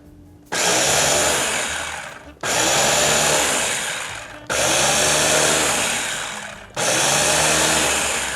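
A kitchen blender whirs loudly in four separate bursts of about two seconds each, mixing a xanthan gum solution. Each burst starts sharply and winds down slightly before stopping, with brief pauses between them.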